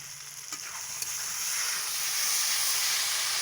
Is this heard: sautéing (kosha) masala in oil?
yes